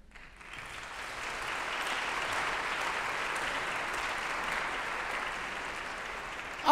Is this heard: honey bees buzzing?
no